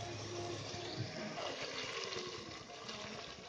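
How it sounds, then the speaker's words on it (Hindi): Water pours steadily into an egg curry gravy in a home kitchen, a continuous hissing, splashing wash at moderate volume without breaks. "इसमें मैं डालती हूँ थोड़ा पानी।"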